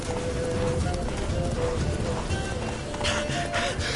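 Horse hooves pound the ground in The Witcher 3 video game as the horse Roach runs, a steady galloping clatter heard close over a noisy in-game background.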